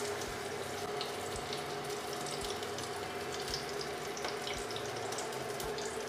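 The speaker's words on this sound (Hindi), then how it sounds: "अब इसमें हम पकौड़े को डालते जाएंगे।" Spinach pakoras sizzle and crackle in hot oil, a steady dense hiss with small pops throughout, close and continuous with no talking.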